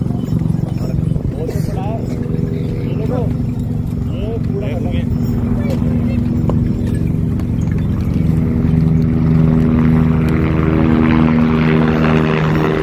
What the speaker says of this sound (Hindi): वो हेलीकॉप्टर से शुरू हो गई है सुबह छः बजे से शुरू हो जाती है